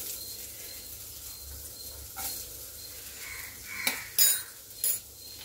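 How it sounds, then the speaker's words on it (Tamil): Vegetables being sautéed in a pan with chilli powder for veg Hakka noodles, a soft sizzle under a few sharp clinks of a spatula against the pan near the end, no voices. "நம்ம இப்போ அதை வந்து காய்களை வணக்கிக்கலாம்"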